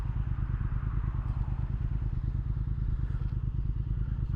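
A motorcycle cruising steadily along a road, its engine droning in an even, continuous rumble with faint clatter, close and constant throughout, no talking.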